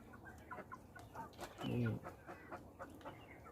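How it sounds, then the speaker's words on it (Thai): Black naked-neck chickens cluck softly nearby, with one louder squawking call in the middle and scattered low clucks around it. "พาชม ดูไก่ที่ผมเลี้ยงไว้"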